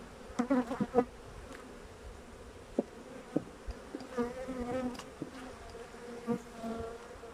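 Honeybees crowd an overflowing hive, a steady close buzzing with sharper individual wingbeats flicking past now and then.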